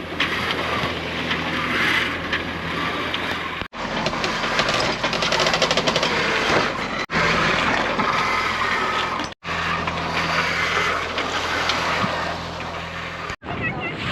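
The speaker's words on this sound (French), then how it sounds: "j'ai bien l'impression qu'on va devoir continuer au moteur comme ça" A sailboat motors under engine at night between Ibiza and Majorca, a continuous close hum and throb of the motor with a steady low drone, broken by brief cuts, while people talk quietly over it.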